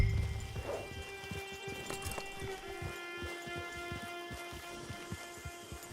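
Horse hooves clip-clop steadily in the video game Red Dead Redemption 2, a regular walking rhythm of soft thuds over a low ambient hum and faint rain-like hiss, with no talk.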